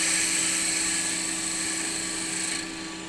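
A wood lathe spins as a turning tool cuts across the face of a decorative wooden box, producing a steady, loud whirring hiss with a continuous bright high tone that eases off slightly near the end, with no talking.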